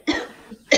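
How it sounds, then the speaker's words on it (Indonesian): A teacher gives two sharp coughs close by, a short rough burst followed a moment later by a second one. "Batuk cikgu."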